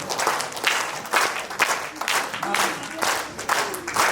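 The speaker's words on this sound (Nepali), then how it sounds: "Jesus Tali, Jesus." A church congregation claps together in steady, loud bursts of applause that swell and fade repeatedly over a few seconds, with no clear talk on top.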